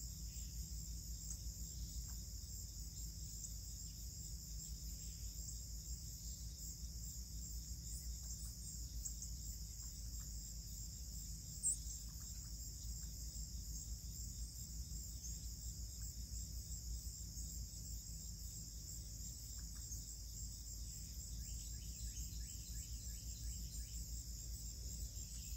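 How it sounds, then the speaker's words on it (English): Night insects, likely crickets, chirp steadily outdoors in a continuous high-pitched drone, with a faint low background hum and an occasional distant bird call. "You can still hear a lot of the insects that you hear at night."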